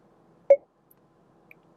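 A single short electronic beep sounds from a Lexus voice command system in a quiet car cabin, crisp and brief, followed by a faint tiny blip.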